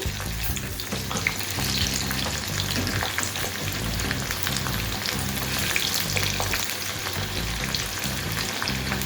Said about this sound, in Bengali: খানিকক্ষণ পর এবার নাড়াচ্ছি।